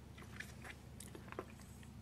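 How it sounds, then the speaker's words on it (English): Chewing a sweet in the mouth, with a few close, quiet wet crunching and biting clicks scattered over about two seconds. "suck on this and chew on it"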